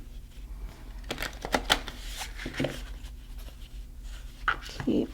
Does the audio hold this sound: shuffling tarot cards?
yes